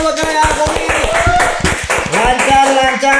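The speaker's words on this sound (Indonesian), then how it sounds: "tepuk tangan buat Kedai Al-Khamis." A small group at a food shop gathering claps in quick, uneven bursts, close and loud, with voices talking over the clapping.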